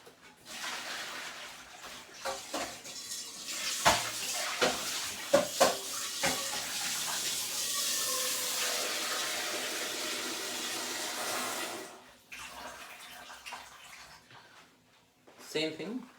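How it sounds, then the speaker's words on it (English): Water is tipped out of a cooking pot and the pot is refilled with cold water from a tap, a long steady gush and splash up close, with clanks of the pot and a voice talking. "I'll throw this water and fill some cold water"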